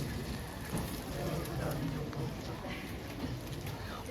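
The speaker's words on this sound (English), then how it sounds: "it's still raining." Steady rain patters across the ground outdoors in Stockholm's Old Town, Gamla Stan, a continuous wet hiss with faint murmurs of voices and street noise beneath it.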